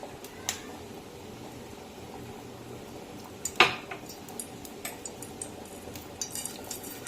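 White oil being poured into a wok and spread around it while making taler patisapta, heard as light metallic scrapes and clinks of a utensil against the pan, with one sharp knock midway and scattered softer taps.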